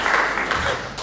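Audience applause at an Occitanie agricultural chamber meeting, thanking a speaker: a short, steady wash of clapping from a seated crowd, fairly even in level throughout.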